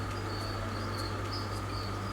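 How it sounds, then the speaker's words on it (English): Crickets kept in a bin chirp steadily, a high, thin repeating trill over a constant low hum, continuous and fairly loud with no voices. "you can see all the crickets just sitting on the edge"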